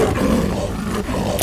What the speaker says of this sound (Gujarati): લેપર્ડ એટલે દીપડો.